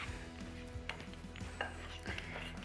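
Pie crust pastry being worked in a mixing bowl with a pastry blender, giving soft repeated scraping and clinking strokes at a steady rhythm, close up and fairly quiet, with no talking.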